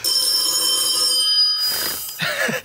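Telephone bell ringing in a house, a bright sustained electronic ring lasting about a second and a half, followed by rustling and handling noises.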